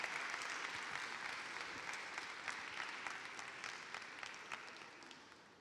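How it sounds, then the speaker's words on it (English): An evening audience at an entrepreneurs' fashion event applauds the incoming MC, Jacqueline, with steady, dense clapping that holds throughout and tapers slightly at the end; no voices are heard. "So, big round of applause for Jacqueline,"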